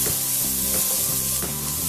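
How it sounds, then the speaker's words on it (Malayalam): Carrots stir-fried for paneer fried rice, with a steady close sizzle and a few soft scraping stirs repeating through the short stretch, no voices. "ക്യാരറ്റ് ഇട്ട് വേഗം തന്നെ ഒന്ന് മിക്സ് ചെയ്യാം."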